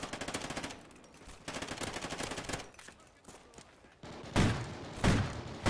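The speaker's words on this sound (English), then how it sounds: "I thought my full metal jacket rounds and muzzle brake would allow me to shoot through that cover and take him out" Automatic gunfire in the shooter Call of Duty: Ghosts with a Vector CQB submachine gun, rapid bursts of shots separated by short pauses, loud and close, ending with a few heavier blasts.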